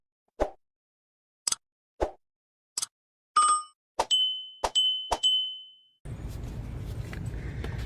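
A bright notification bell chime rings out after a few soft pops, with a short ding followed by sustained ringing tones, then steady background noise takes over.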